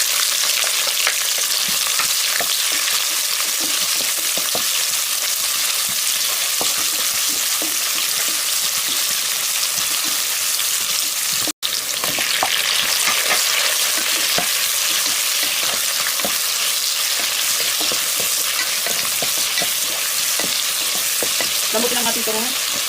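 Chopped onions sizzle loudly and steadily in a hot pan for a sinigang fish soup, with the scrape of a spoon stirring through them now and then and no talking.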